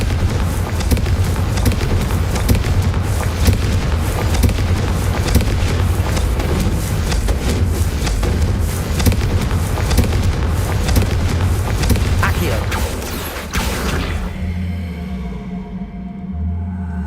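Repeated Confringo fire-spell blasts in Hogwarts Legacy, a rapid, dense series of booming explosive bursts layered over a low rumble, cutting off abruptly near the end into a quieter fading tail.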